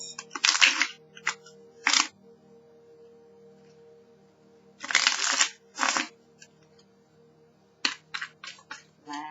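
A deck of tarot cards is shuffled by hand in three separate bursts of quick riffling and crisp flicking, close and clear against a quiet room with a low steady hum.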